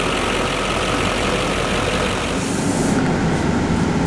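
A 2006 GMC Sierra 2500 heavy-duty pickup with the 6.6-litre V8 LBZ diesel engine idles steadily, a close, continuous low rumble with no talking over it.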